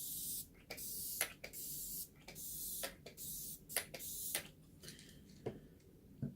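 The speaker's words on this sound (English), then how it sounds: "I'm going to go in with Pacifica Crystal Power Hydro Mist" Pacifica Crystal Power Hydro Mist face spray gives a run of quick, crisp, faint spritzes in an irregular rhythm, each burst short and airy and set apart by small gaps.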